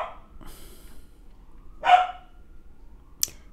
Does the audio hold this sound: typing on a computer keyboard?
no